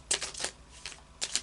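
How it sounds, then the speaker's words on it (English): A deck of Moonology oracle cards is shuffled by hand in a few quick, close riffling bursts, with short pauses between them and no talking. "So I'll just do a final shuffle now of the Moonology"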